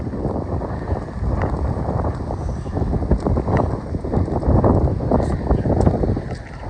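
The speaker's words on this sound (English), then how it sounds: "So you may hear a lot of wind." Strong cold wind buffets the microphone on a New York City street, a continuous low rumbling roar with gusty swells and faint traffic and footsteps beneath.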